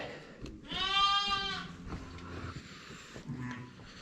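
A lamb gives one drawn-out, wavering bleat close by, followed by quieter rustling and low farmyard background noise.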